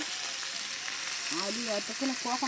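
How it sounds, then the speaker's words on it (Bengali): Potatoes frying in hot oil for a chicken dish at an outdoor home picnic give a steady, close sizzle, and a voice talks over it in the second half. "এখানে চিকেনের জন্য আলু ভাজা হচ্ছে"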